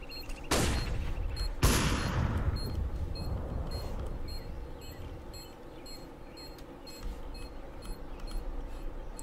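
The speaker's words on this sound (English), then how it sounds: "Throwing flashbang." A flashbang grenade in CS:GO: two sharp, loud bursts in quick succession, followed by a sustained hiss with faint repeating beeps from the game.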